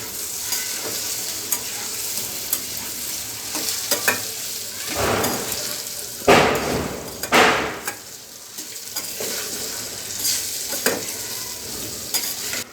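Okra for crispy Andhra-style bhindi fry is stirred in a hot pan, giving a steady sizzle with rhythmic scraping strokes of a spatula, several louder sweeps near the middle, close and clear without talk.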